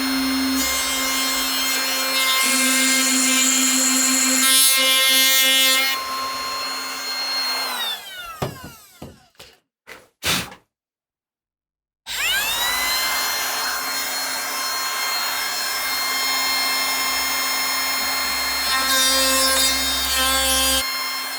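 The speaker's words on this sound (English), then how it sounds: "I'm going to use this new jig to route all the way through rather than drill all the way through" A power router with a jig screams through wood in a long, loud run, then sputters in short bursts, falls silent briefly, and roars back up for another sustained cut.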